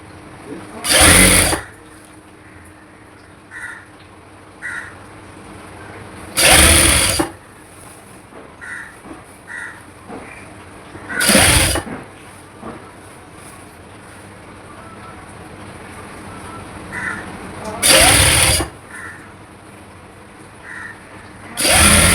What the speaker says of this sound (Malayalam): ക്ലോത്ത് വലിച്ചു പിടിക്കാതെ വേണം സ്റ്റിച്ച് ചെയ്യാൻ.